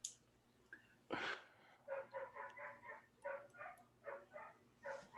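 A small puppy barking and yipping in a run of short, fairly faint yaps, with one louder outburst near the start, heard against a quiet background.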